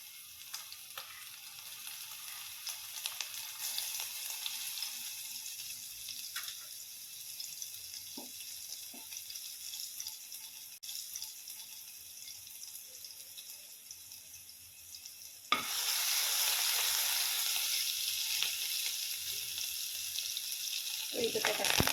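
Garlic and cumin frying in a spoonful of oil, a steady hiss that jumps into a louder, brighter sizzle as the garlic goes into the pan, with faint clinks of stirring.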